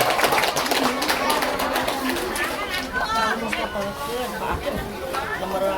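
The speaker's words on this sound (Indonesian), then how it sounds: "tepuk tangan dong" Clapping from a crowd at an Islamic school gathering in Bandung, a lively wash of hands mixed with chatter and a voice, fading slightly toward the end.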